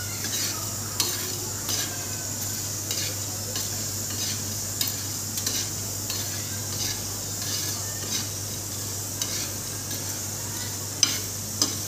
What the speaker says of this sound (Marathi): भाजते आता मसाला आणि वाटून घेते थंड झाल्यावर.